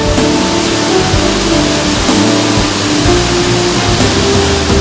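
A waterfall fed by a mountain spring in Lovers' Valley roars as a loud, steady, dense rush of water, continuous and close with no pauses.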